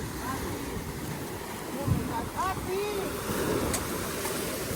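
Strong ocean waves wash onto a La Union beach in a constant broad surf roar with wind noise, while voices talk over the crashing water.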